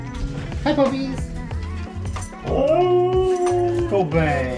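Dogs howl, yip and whimper excitedly, close by. A person greets them in a high, happy voice.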